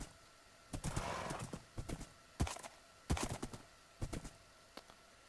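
A horse's hooves clip-clop in uneven clusters as it travels through a jungle biome in a video game. The steps are fairly faint, and a brief neigh-like call sounds near the end.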